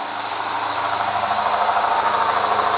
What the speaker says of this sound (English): Listen to the cold start.